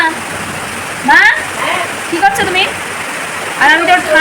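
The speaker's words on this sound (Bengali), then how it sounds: "ভীষণ বৃষ্টি হচ্ছে বাইরে একদম মুসলধারে বৃষ্টি" Heavy monsoon downpour hisses steadily outside during a flood, a dense continuous wash of rain with voices speaking intermittently over it.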